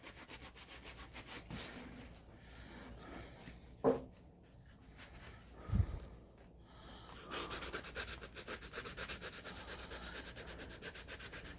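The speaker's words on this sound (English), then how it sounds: "So let me get a little bit more since here's a sanding pad right here." A sanding pad rubs across chrome metallizer coated onto a plastic dummy unit, giving a soft, steady scratchy friction with a couple of sharp knocks midway and a brighter, busier rasp toward the end.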